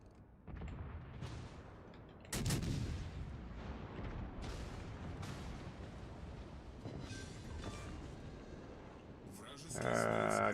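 Naval guns boom in the World of Warships Legends video game, several heavy blasts with rumbling tails amid battle noise, ending in a loud burst.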